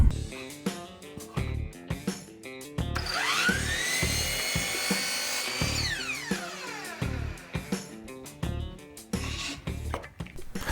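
A power saw cuts a wooden board for a DIY spray gun stand, with a loud whining rise as the blade bites in, then repeated rapid buzzing passes and clattering strokes around it, close and with no talking.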